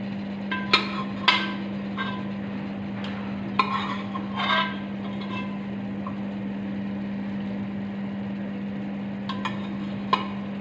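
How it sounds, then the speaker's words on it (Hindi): Beef being added to a pot and frying for Karachi-style biryani, several clanks and scrapes of metal against the pot near the start, then a steady low sizzle with a few later knocks. "इसमें हम बीफ ऐड कर रहे हैं।"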